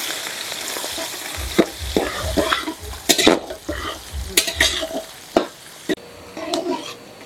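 Chopped onion hits hot oil in a pan for chilli chicken, giving a steady close sizzle broken by scraping stirs and clinks of a utensil against the pan.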